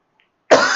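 A single short, sharp cough bursts out close by after a moment of silence.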